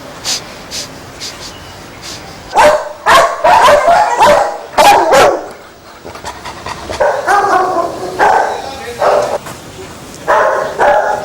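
Several dogs bark loudly and close by at kennels, sharp repeated barks and yips in bursts with short pauses between them, with a few whimpers mixed in.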